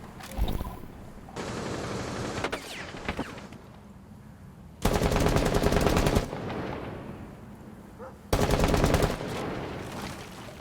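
Automatic gunfire in the video game Rainbow Six Siege: several sustained bursts of close, loud shooting separated by quieter stretches with faint shots and room noise.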